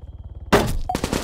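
A single sharp gunshot in the video game Arma 3, loud and abrupt, followed by a brief echoing tail and another quick report, after a low rhythmic engine-like pulse.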